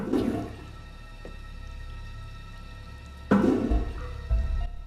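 A toilet flushes in the video game Indigo Prophecy (Fahrenheit), a rushing water swell at the start and a second louder surge later over a low steady room hum.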